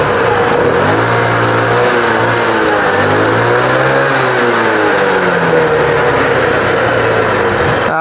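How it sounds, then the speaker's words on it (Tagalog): Small engine revved repeatedly as the throttle opens after carburetor tuning, rising and falling smoothly in loud, close pitch sweeps over a steady idle. "Tapos i-throttle po natin."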